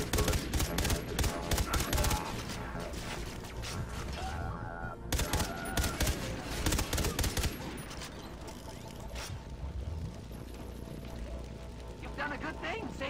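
Rapid gunfire from the retro-futuristic shooter Far Cry 3: Blood Dragon crackles in dense bursts throughout, loud and close, with a voice speaking over the shooting.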